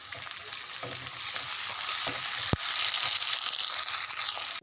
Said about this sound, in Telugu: నాలుగు పచ్చిమిరపకాయలు కరివేపాకు ఒక స్పూన్ నల్ల పేస్ట్ చేసి పచ్చి వాసన పోయేదాకా కలపాలి